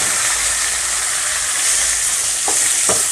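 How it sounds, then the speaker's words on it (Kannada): Ridge gourd and hyacinth bean dal fries in a pan with a loud, constant sizzle and hiss, broken near the end by a couple of sharp scrapes as it is stirred. "ಇದನ್ನು ಫ್ರೈ ಮಾಡ್ಕೊಳ್ಳೋಣ"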